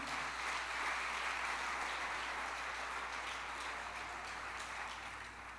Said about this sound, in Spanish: Dele fuertes palmas al Señor